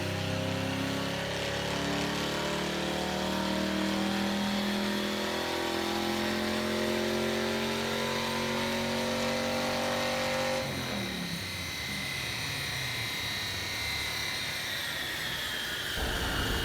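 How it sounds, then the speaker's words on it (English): A stock 1991 Ford Mustang 302 V8 with 308K miles runs hard on a dyno, a loud steady engine roar climbing in pitch, then a shift partway through to a higher, rougher wail that holds to the end. "let's take a 1991 stock Mustang with 308K miles on the dyno test and see what happens with that."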